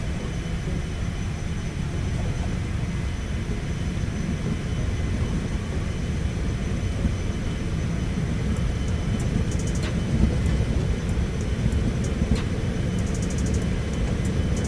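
A Cessna Citation X jet in the X-Plane 12 flight simulator takes off with a loud, steady engine roar and rumble that holds throughout, with a few faint clicks toward the end.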